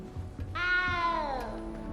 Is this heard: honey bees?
no